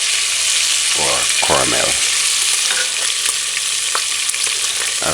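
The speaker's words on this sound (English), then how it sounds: "Just allow it to fry" Pork frying and sizzling in a pot for a stew, a steady broadband hiss with a few stirring scrapes, close and continuous, a brief voice speaking partway through.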